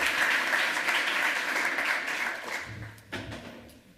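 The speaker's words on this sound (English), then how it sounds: "Give him a huge round of applause." Conference audience applauding after a lightning-talk presentation: a full round of clapping that holds steady, then thins out and fades near the end.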